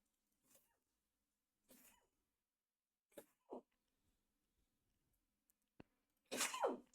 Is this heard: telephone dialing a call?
no